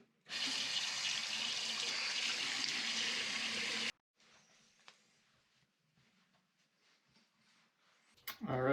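A bathroom tap runs steadily for several seconds, a loud broadband hiss of water while rinsing off after a shave, then shuts off, leaving faint quiet handling noises and a brief rustle at the end.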